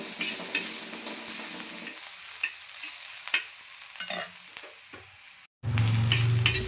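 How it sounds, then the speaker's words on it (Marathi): Onion frying in a little oil in a pan while being stirred, a close steady sizzle with scraping strokes, a brief cut near the end, then a louder hiss as frying resumes. "यावरती थोडंसं तेल, छान असं लालसर असं आपल्याला कांदा भाजून घ्यायचा आहे."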